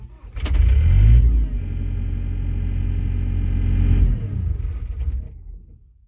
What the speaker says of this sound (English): you're trying to crank the skid steer